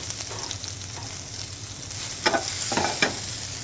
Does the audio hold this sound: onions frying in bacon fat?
yes